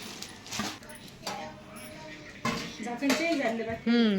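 Metal kitchen containers clank and knock together in a few short bursts while a person talks and a dog whimpers nearby.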